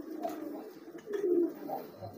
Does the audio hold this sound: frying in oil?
no